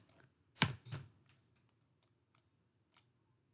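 Keys clack on a computer keyboard nearby: two firm strikes close together, as if pressing enter, followed by a few faint, scattered taps in otherwise quiet surroundings.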